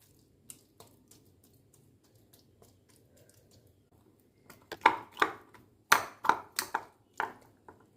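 Raw chicken being pricked with a fork for a roast, a run of sharp, close, wet tapping jabs that starts sparse and faint and then quickens into a loud, rhythmic flurry.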